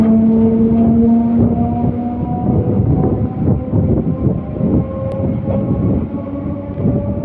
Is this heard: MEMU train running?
yes